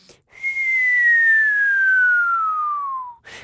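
One clear, steady whistle slides evenly from high to low pitch for nearly three seconds, close and loud, with silence around it and no speech.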